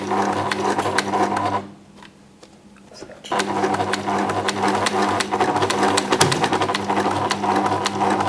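A sewing machine rattles along steadily with rapid needle clicks while hemming, pauses briefly as its needle strikes a pin, then resumes its fast mechanical stitching.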